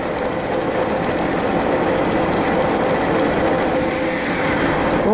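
A milling machine cuts a 3 mm deep hole in a grounding contactor part for a rotating welding positioner, producing a loud, steady whirring drone with a dense mechanical hum and no breaks.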